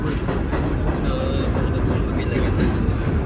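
MTA subway holiday train running between Chambers Street and 125th, a steady loud rumble and rattle of the cars throughout, with faint voices beneath.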